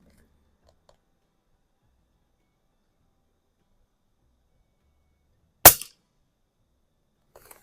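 A single loud, sharp pistol shot fired outdoors, standing alone after several seconds of near silence and followed by a few faint clicks.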